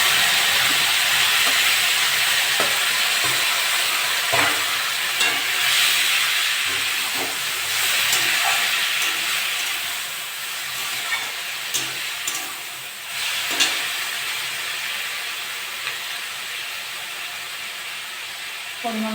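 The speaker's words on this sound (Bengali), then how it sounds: "এবার চাল কুমড়োটা দিয়ে দেবো।" Ash gourd hits a pan of panch phoron spices frying in oil, producing a continuous hissing sizzle with intermittent scrapes and clatters of stirring, fairly loud and close.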